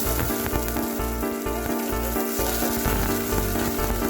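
Garlic frying in a hot pan, a steady loud sizzle with constant crackle and hiss running throughout, close up and without any talk.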